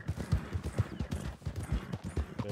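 Horse hooves clip-clop in a quick, steady rhythm in the western roleplay video game RedM, close and clear with a faint hint of talk beneath.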